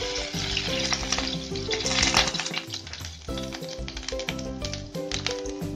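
Cumin seeds sizzle and crackle in hot refined oil over a low gas flame, a steady close frying hiss with bright spitting through the whole stretch, with no one speaking.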